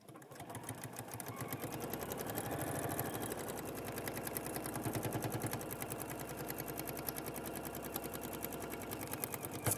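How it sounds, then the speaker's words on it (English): Handi Quilter sewing machine stitching a long seam, a steady rapid mechanical needle chatter running loud and continuous throughout with no talking. "we're going to sew all the way along"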